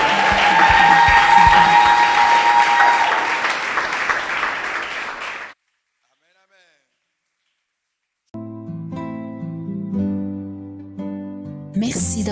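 A church congregation at a Sunday service claps loudly and continuously for about five seconds, then the applause drops off into silence before music begins.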